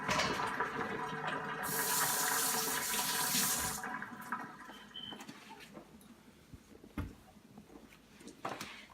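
Cooking water from boiled cauliflower, being prepared for fufu, is tipped out into a kitchen sink in a short, rushing splash lasting a few seconds, followed by quieter clinks and handling noises.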